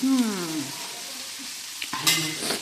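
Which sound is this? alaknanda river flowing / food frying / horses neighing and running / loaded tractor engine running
food frying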